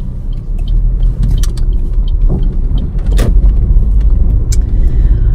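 Heard from inside a car driving through a village: a steady low road rumble with scattered clicks and rattles in the cabin, fairly loud and without speech.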